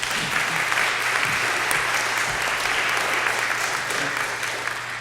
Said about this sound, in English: let's give another round of applause for Helen